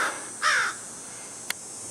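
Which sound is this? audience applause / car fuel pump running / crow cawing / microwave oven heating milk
crow cawing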